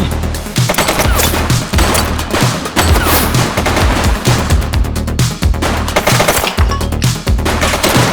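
Dense, loud bursts of rapid gunfire in the police game The Precinct rattle almost without pause, with heavy automatic volleys stacking into a continuous shootout.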